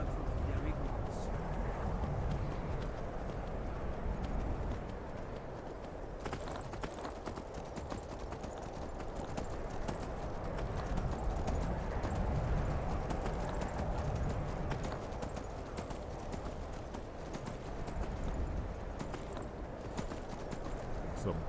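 Horse hooves clip-clop in a steady trotting rhythm in Skyrim, close and continuous, over a soft wind-like background.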